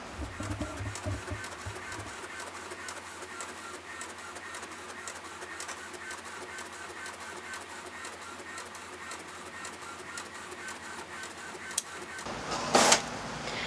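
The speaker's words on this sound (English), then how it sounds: "send to printer, and then let it print out" An inkjet printer prints sticker sheets on printable vinyl, running steadily with a low mechanical hum and rhythmic carriage movement, ending in a brief louder paper-feed whir.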